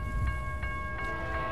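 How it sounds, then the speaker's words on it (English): Freight train nearing a railroad crossing, with a sustained horn tone running through steady low rumble and faint periodic clatter at moderate distance. "The horn to warn of a freight train approaching"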